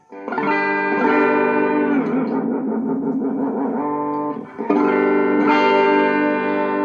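A distorted electric guitar holds a chord that wavers and bends in pitch as the tremolo bar is worked, then settles back to a steady, in-tune chord.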